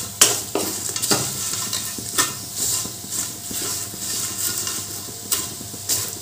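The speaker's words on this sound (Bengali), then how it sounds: "চিনিটা দিয়ে আবারও ভালো করে নাড়তে হবে" A spatula scrapes and stirs frying food around a pan after sugar goes in, giving repeated loud scraping strokes over a low, constant sizzle.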